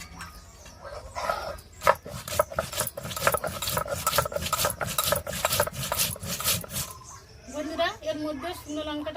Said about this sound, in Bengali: নিয়েছি ধনে মৌরি জিরে আর গোলমরিচ একসাথে বেটে নেব